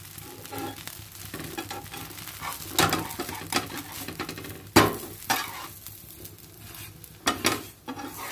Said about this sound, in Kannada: ಇದಕ್ಕೆ ದೋಸೆ ಹಾಕ್ಕೊಳ್ಳೋಣ